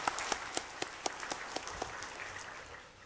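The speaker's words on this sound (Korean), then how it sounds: "감사 영광의 박수까지 드립시다" A church congregation at a Sunday worship service gives a short round of applause, a faint scattering of claps that starts crisp and fades out within a few seconds, with no voices over it.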